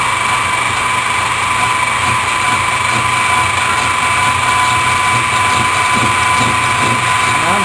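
A machine running at slow speed cuts away about an eighth of an inch of metal, producing a loud, steady mechanical whine and grinding chatter that continues without a break.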